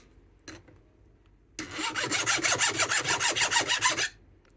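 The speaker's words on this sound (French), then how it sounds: "Ce qui fait que je vais juste limer." A hand file is drawn across a chainsaw chain tooth in a quick run of about a dozen rhythmic rasping strokes, close and fairly loud, following a single short stroke and with no talking.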